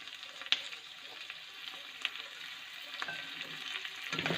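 Chana dal and fresh tomatoes fry together in a pan for a hotel-style tomato chutney, giving a soft, even sizzle with occasional sharp spatter pops and faint stirring near the end, fairly quiet and close.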